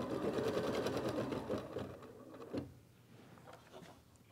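An embroidery machine stitches a placement line for the snout of a small softie, whirring in a fast steady run for about two seconds, then slowing into a few quieter mechanical clicks and a thump.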